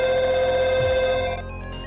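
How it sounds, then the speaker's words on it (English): Stacked phone-call ringing from the punch card glitch in the Undertale Muffet fight plays as a steady electronic tone layered over a rapid repeating pattern. It is loud at first, then cuts back to a thinner ring near the end. "you get that because it tries stacking a bunch of phone calls for some reason"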